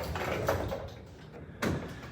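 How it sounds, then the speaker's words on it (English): A sliding barn door with a lock on a hotel bathroom at Swan Reserve Resort rolls along its track in two short bursts, a soft rumbling slide followed by a louder rush near the end, close by and without talk. "now the bathroom door is a barn door"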